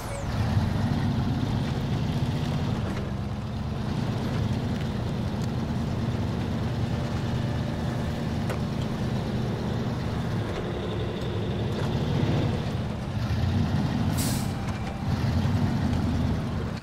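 Fleet Star truck in the SnowRunner video game, its engine rumbling low and steady throughout with brief hissing bursts that fit air brakes, heard up close.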